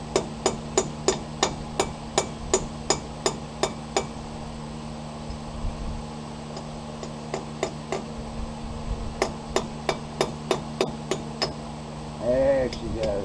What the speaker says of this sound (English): Kind of tapping that into place, not real hard, trying not to bend that.